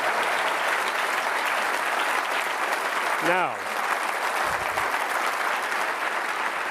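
Dense, continuous clapping from a large audience at a talk, with a short spoken word rising briefly over the applause midway before it carries on steadily.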